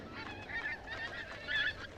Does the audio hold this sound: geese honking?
yes